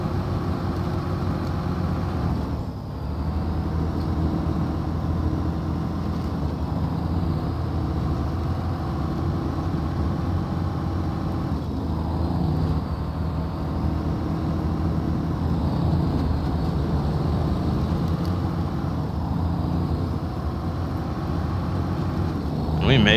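An HD-750 truck mod in SnowRunner climbs a hill, its engine holding a constant heavy drone with slight pitch dips, loud and steady throughout.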